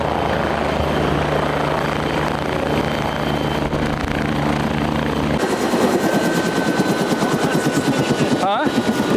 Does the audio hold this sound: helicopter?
yes